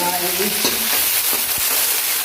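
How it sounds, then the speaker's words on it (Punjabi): Green chillies and ginger sizzle loudly in a hot tempering for aloo gobi, a dense close crackle with a few sharp stirring knocks. "ਇਸ ਤਰ੍ਹਾਂ ਆਪਾਂ ਹੁਣ ਇਹਨੂੰ ਤੜਕਾ ਲਾ ਲਾਂਗੇ ਭੁੱਜ ਜਾਣ"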